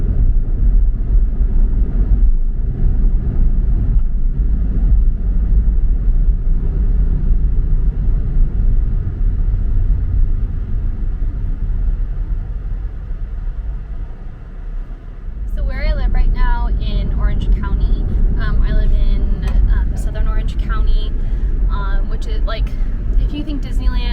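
A car drives along roads in Orange County, its low road rumble and engine hum steady throughout while people talk over it in the cabin.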